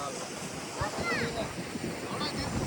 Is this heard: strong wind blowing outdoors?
yes